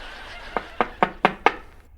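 Five sharp knocks on a house door at an even, quick pace, close and clear against a quiet background, with no talk over them.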